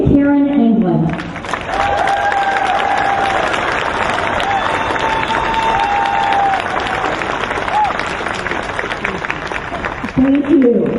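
A rally crowd applauds a speaker's welcome in Minnesota, loud, dense clapping that swells and holds for several seconds with scattered cheers, while voices speak briefly at the start and end.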